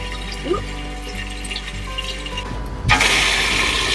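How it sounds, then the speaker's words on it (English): Fresh water running through a hose into a sailboat's tank at a marina dock in St Anne, Martinique, a steady hiss and gurgle that swells louder near the end, close, with no one talking. "Right, water going in first."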